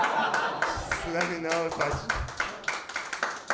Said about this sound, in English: Should I do the clap? Can I clap again?